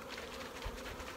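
About a hundred honeybees buzz inside a jar for an alcohol wash during mite monitoring, a faint, steady droning hum with no talk.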